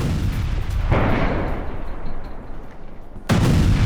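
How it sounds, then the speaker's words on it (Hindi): Missile strikes on a large power station in Kyiv produce heavy blasts, two loud booms with a roaring rumble between them, heard from a distance. "सबसे बड़े पावर स्टेशन पर यह मिसाइल अटैक"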